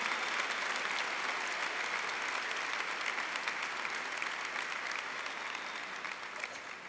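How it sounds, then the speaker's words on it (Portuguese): A church audience claps during a Catholic talk, producing warm, continuous applause from a sizeable crowd that stays steady for several seconds and tapers slightly at the end, with no voices over it. "Pode aplaudir, porque você fez a opção."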